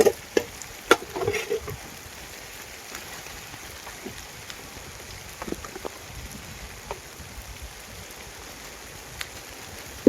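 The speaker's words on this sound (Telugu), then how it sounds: "మీకు కనబడుతుంది ఏదో వాన అయితే పడుతుంది." Steady rain falls at a campsite, a soft broadband patter of drops throughout with a few sharper splats and taps standing out near the start, heard alone without talk.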